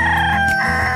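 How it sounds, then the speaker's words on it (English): A feisty young rooster on a small homestead crows loudly and close in the morning, one strong harmonic call with a brief break, filling the whole moment. "But we did just get a new rooster, and he is super feisty with energy in the morning."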